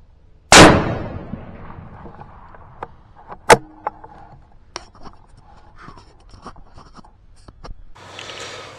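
A single sharp rifle shot cracks loudly close by during a deer hunt, with a decaying echo, followed by quiet rustling, faint clicks and a later burst of handling noise.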